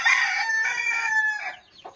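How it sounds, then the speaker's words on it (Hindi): A hen clucks and crows in a rapid, close series of calls that trail off near the end, with no talking, at a home garden with small chicks nearby. "ये इनके घर में मुर्गी हैं ये इसके छोटे छोटे बच्चे हैं"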